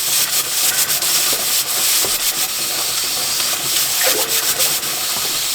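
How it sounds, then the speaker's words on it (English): Running water steadily rinsing a pressure canner lid under a tap, a continuous hiss and splash with light rubbing and scrubbing noises from handling the lid, close and without speech. "Going to rinse off this because that's where the seal goes."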